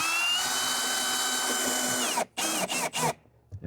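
A cordless drill drives a screw into a wooden door frame, giving a steady, close whining run of about two seconds followed by several short, choppy bursts as the screw seats.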